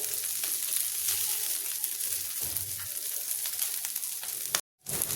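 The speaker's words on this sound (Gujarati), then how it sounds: "શેકી લઈશું આપણે તેલ લગાવી દઈશું કિનારી પર પણ આપણે થોડું થોડું તેલ લગાવી દેવાનું છે" Farali patties shallow-fry in a little oil on a flat tawa, giving a continuous close hiss and crackle with faint spatula touches, broken by a sudden brief silence near the end.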